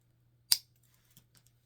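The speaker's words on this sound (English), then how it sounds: "Now I'm going to trim off my zip tie." Scissors snip through a plastic zip tie on a homemade ribbon wreath hanger, one sharp close cut followed by a few faint small clicks in an otherwise quiet room.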